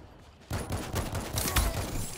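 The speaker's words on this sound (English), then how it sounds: "Anti-material rifle" Dense, loud gunfire in the video game World War Z, with an anti-material rifle among the weapons; sustained booming shots start abruptly after a quiet half second.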